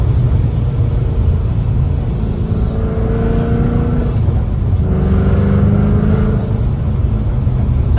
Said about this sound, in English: I never get tired of that that supercharged blow off